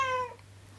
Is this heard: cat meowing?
yes